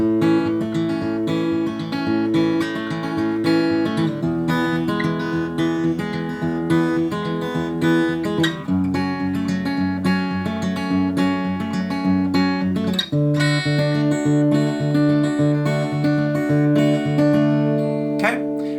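Acoustic guitar plays a steady strummed chord progression, full and close, continuing without pause and with no voices.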